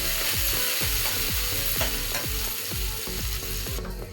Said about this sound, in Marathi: आता आपण वाटण घेऊन टाकलंय कढईमध्ये.